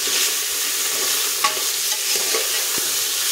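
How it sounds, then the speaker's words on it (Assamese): Khichdi with chili powder is stirred in a hot pan, a constant bright sizzle with a few faint scrapes and taps of the spoon, close and fairly loud, with no voices. "এইখিনি মই এতিয়া লৰাই লৈ"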